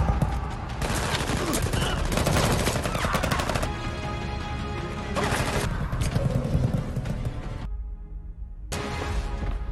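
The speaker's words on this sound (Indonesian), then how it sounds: "Baku tembak terjadi." A film gunfight on a hillside, with dense bursts of automatic gunfire and rapid single shots crackling almost nonstop at close range, broken by one short lull before the firing resumes.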